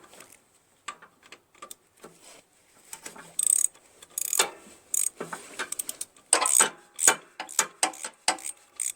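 Wrench ratcheting on the crankshaft bolt of a Craftsman LT1000 lawn tractor with a Briggs 21 hp opposed-twin engine, irregular bursts of clicks and metallic clanks, close and intermittent with quiet gaps and no talking.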